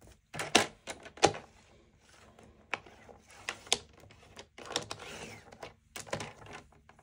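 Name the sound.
paper trimmer blade cutting a sheet of paper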